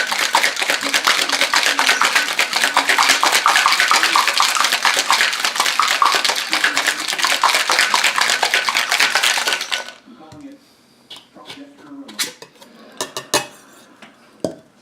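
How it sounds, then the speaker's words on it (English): Ice rattles hard and fast in a cocktail shaker during a vigorous shake for a strawberry drink, a loud continuous clatter that stops abruptly, followed by a few scattered clinks and knocks. "as you're smashing the ice back and forth, you're kind of chipping it into small chips there to mix in with the drink"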